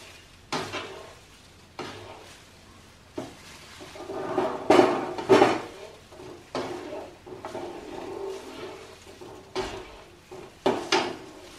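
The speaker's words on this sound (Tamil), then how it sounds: "அப்படி அடி பிடிக்காம உட்காந்து கிளறிக்குங்க" Mysore pak mixture is stirred in a pan, with a spoon scraping and knocking against the metal in irregular strokes amid a soft sizzle, close by and without talk.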